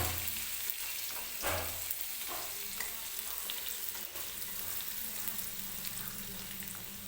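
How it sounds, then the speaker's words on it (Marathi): Green chillies fry in hot oil in a home kitchen with a continuous, even sizzle, while a few sharp scrapes and taps of stirring sound close by. "मिरची व्यवस्थित तेलामध्ये भाजून घ्यायची आहे"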